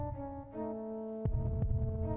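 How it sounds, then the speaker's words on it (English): Ominous heartbeat effect from the video game Alundra: a sustained musical drone that gives way to deep, rhythmic low thumps. "What's with the heartbeat?"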